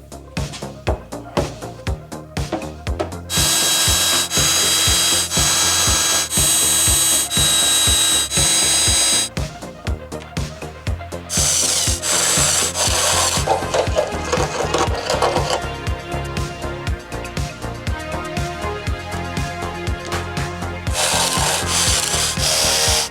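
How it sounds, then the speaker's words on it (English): Continuous abrasive rubbing of sanding against Bondo body filler on a Mazda Miata trunk, loud and close, with brief pauses and changes in pitch as the strokes vary. "the ridge of the Bondo is very visible"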